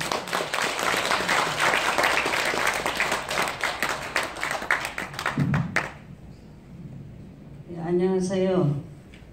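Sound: audience applause

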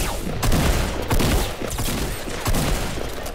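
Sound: gunfire in Fortnite video game

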